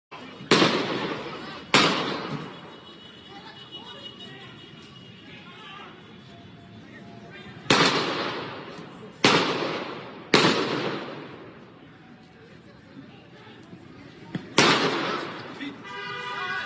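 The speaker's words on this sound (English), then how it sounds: "Notice the shot, the first shot that rang out. Notice the second shot that rang out." Gunshots ring out at a street confrontation in Portland, a series of sharp, loud cracks scattered over the recording, some in close succession, with ambient noise and faint voices in between.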